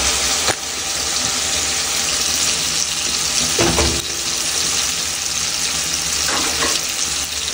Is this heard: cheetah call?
no